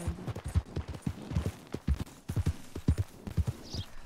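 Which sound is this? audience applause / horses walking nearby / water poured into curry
horses walking nearby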